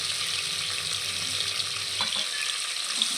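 Mint, coriander and fenugreek leaves wilting in a hot pan for mutton biryani give a steady, close, soft sizzle and hiss, with a faint clink of stirring partway through and no talking.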